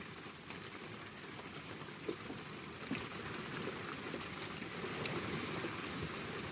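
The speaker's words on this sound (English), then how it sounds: "So it's chucking it down in rain today." Heavy rain falls outside in a constant moderate patter with scattered sharper drops hitting a surface, fairly close and without talk.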